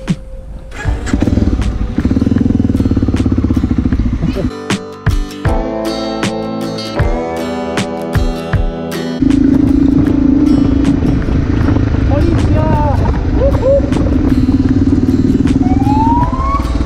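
A motorcycle fitted with an aftermarket exhaust, checked at a children's-day motorcycle event, runs close and loud, its engine note shifting between steady idle and sharper revving bursts with crackle throughout.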